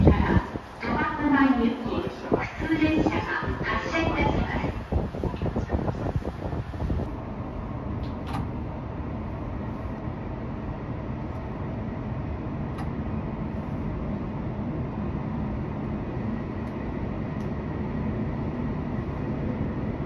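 A local train on the Chitose Line in Hokkaido runs just after departing Minami-Chitose station, where it parts from the branch toward New Chitose Airport. A steady, moderate rumble of the moving train continues with no pauses, after a few seconds of busier noise at the start.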